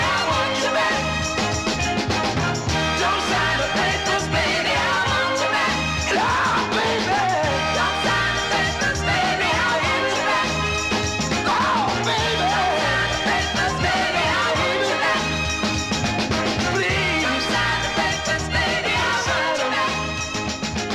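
A 1968 soul record plays loud and continuous from a 45 single, with full band rhythm and vocals throughout.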